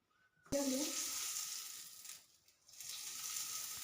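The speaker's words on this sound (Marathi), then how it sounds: "कढीपत्ता घालूया" Curry leaves hit hot tempering oil for a green tomato chutney, bursting into a sudden loud sizzle that crackles steadily, dips briefly, then picks up again.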